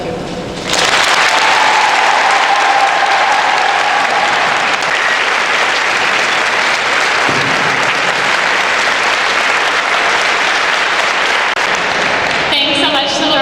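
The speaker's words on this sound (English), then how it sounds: "I would like to applaud each and every one of you here tonight." Sustained applause from an audience at a Relay For Life charity fundraiser, loud and dense, with steady clapping lasting over ten seconds before tapering at the end.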